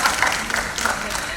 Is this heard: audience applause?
yes